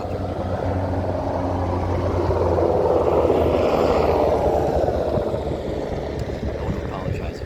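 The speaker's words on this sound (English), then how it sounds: "there goes a helicopter" A low droning rotor rumble swells as the helicopter passes overhead, peaking midway and then easing off, steady and fairly loud.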